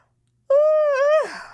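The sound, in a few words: yawn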